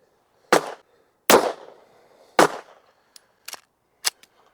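Walther PDP pistol fitted with a compensator firing 124 grain reloads, several sharp separate shots spaced irregularly with quieter clicks and clatter of the action between them, heard alone outdoors.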